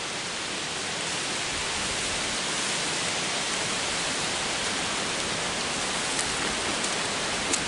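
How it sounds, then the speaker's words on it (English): Steady rain falls outdoors by a porch on a fall day, a dense, even hiss of drops with faint scattered taps and no talking, holding at a constant moderate level throughout. "Well, I didn't think it was going to rain, but it is raining"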